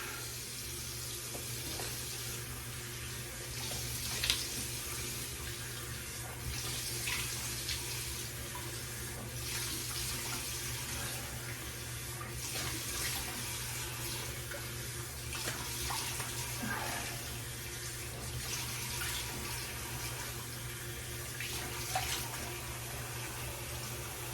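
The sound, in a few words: running tap water, splashing water on face before shaving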